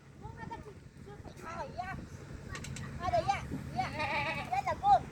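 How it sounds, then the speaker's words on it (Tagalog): Several young goats bleat in high, wavering cries, some near and loud, mixed with people talking and children's voices in the background, in a desert setting. "Marami na palang anak na kambing."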